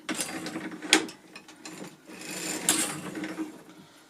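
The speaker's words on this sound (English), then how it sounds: "My machine is a Laguerre 47, and it's pretty forgiving going back and forth, but you do need to crank all the way over to the other side" A LeGare 47 sock knitting machine cranked by hand, giving clicking, ratcheting mechanical clatter with two louder sharp clacks, close and with no talking.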